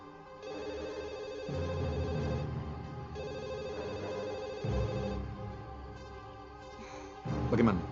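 A telephone rings in an indoor dramatic scene, its tone repeating in steady bursts at moderate loudness across the whole span, with a louder clatter near the end.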